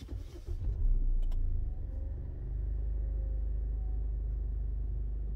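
The engine of a 2023 SsangYong Rexton SUV, a 205-horsepower unit, cranks and starts, then settles into a low, smooth, quiet idle that hums steadily.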